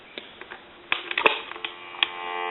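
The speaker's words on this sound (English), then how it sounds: "Give you some dial tone." A few handset clicks and taps on an AT&T 210 Trimline telephone, then a steady dial tone hums continuously over a narrow phone line.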